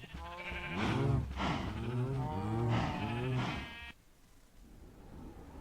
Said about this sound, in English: Very noisy cows.